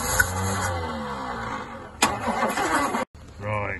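Humber Super Snipe engine cranking and catching with a short burst of revving, heard near and loud amid talk, cutting out abruptly before a brief restart.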